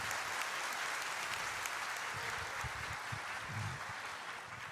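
Applause from a church congregation praising God, steady and dense across the whole stretch at moderate volume with no clear speech on top.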